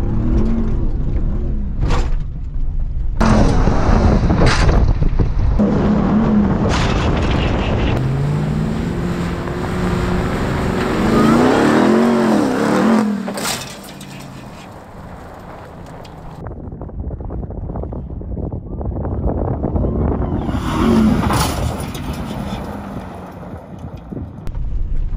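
A Ram TRX pickup truck engine roars and surges at about 30 miles an hour over a jump while heavy wind buffets the microphone, then drops to a lower rumble before rising again.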